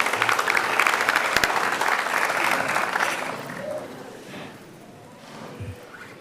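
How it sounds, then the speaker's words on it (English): A crowd at a live-streamed event applauds the girls' softball team, a dense wash of clapping that is loudest at first and slowly thins and fades over about six seconds. "Give them a round of applause."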